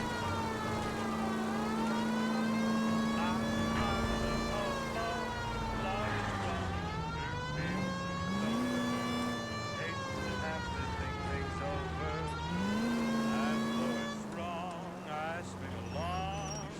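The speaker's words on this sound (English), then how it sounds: "Better turn on the siren." A police car siren wails in the L.A. Noire video game, loud and continuous, rising and falling in long sweeping cycles over engine noise.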